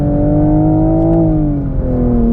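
A 2023 Toyota GR Supra 3.0 with a six-speed manual downshifting on a race track, a loud, steady engine drone close inside the cabin whose pitch holds and then sinks gradually as the revs drop.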